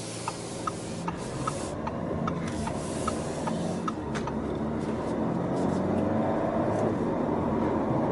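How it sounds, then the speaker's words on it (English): A 2021 Audi A4 Prestige engine hums steadily from inside the cabin on a test drive, a continuous even drone with road noise and a few light ticks, no talking. "It sounds like a small sporty car"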